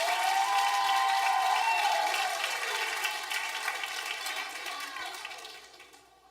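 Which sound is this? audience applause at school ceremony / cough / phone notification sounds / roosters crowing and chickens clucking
audience applause at school ceremony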